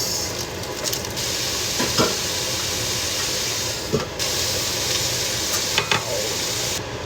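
Vegetables stir-fry in sesame oil with a steady, loud sizzle, broken by several sharp scraping stirs and clinks across the pan.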